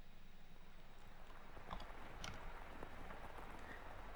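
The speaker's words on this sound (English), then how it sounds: "The rain just won't let up." Steady rain in the video game The House in Fata Morgana, a soft continuous hiss of drops falling on a surface, faint and unbroken throughout with a few slightly louder patters.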